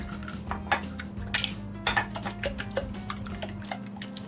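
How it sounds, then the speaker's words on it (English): Two eggs whisked in a bowl for breakfast, with quick, steady clinks of the whisk against the bowl's sides repeating close by throughout, moderately quiet and with no talking. "So I'm gonna whisk the eggs."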